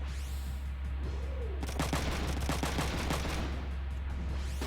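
Machine gun fire in the mech game Front Mission 3, a dense burst of rapid shots over a constant low hum, moderately loud and lasting a couple of seconds.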